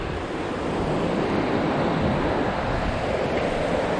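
Water pouring over a small dam spillway makes a continuous, loud, even rushing roar that fills the whole stretch, with no voices.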